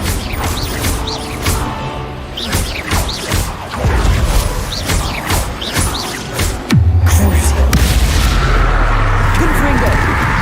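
Repeated blasting-spell explosions in Hogwarts Legacy, a string of sharp bangs and crashes followed by a heavier booming blast and rumbling tail, with a voice shouting spell names between them.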